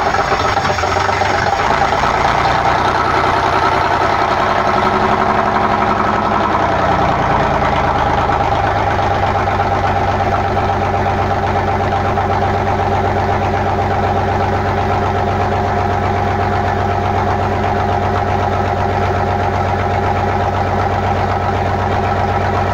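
A V6 Dodge Dakota engine cranks briefly, catches and settles into a steady, loud idle with a deep low rumble and a faint knocking, running alone with no talk.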